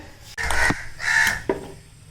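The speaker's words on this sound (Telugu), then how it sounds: "మనకి ఈ కాకులు అరవడము ఊర్లో మనకి ఇదే బెనిఫిట్ అవి అరుస్తూనే ఉంటాయి" Two or three harsh crow caws ring out close by in a village, separated by short pauses, over a quiet background.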